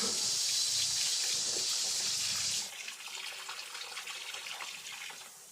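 A hose pipe sprays water over potted plants in a balcony garden, a loud steady gush that cuts off halfway, leaving quieter splashing and dripping with no voices.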